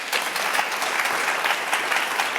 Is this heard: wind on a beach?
no